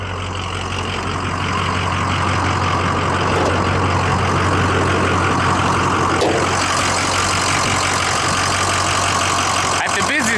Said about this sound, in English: It's 6-liter Powerstroke turbo diesel V8, 32-valve engine